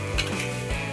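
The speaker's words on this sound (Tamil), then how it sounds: "அதே எண்ணெயில் முட்டையை நம்ம போட்டு நல்லா கிண்டிக்கலாம்" Eggs scrambled in hot oil left over from a prawn fried rice, giving a steady sizzle broken by a couple of quick spatula scrapes in one brief burst.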